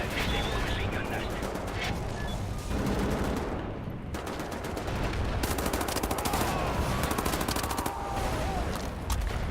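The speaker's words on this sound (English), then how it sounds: "Now disable the machine gun nest" A machine gun nest in the shooter Wolfenstein: The New Order fires loud, sustained automatic bursts with rapid crackling shots, separated by brief pauses, mixed with other battle gunfire.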